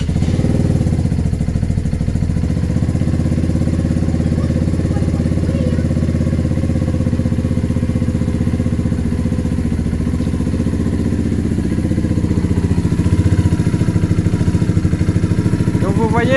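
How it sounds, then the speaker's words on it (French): A small Bullit Hero 125 motorcycle with a valve clearance clatter runs close and loud, a steady mechanical idle with a faint ticking over a dense low drone throughout. "On va démarrer la petite moto."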